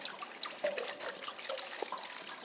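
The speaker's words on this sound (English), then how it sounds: "you've got air coming in, water coming out." Water drains steadily out of an RV water heater tank with a continuous trickling, gurgling flow, close and moderately loud, with occasional bubbling as air enters.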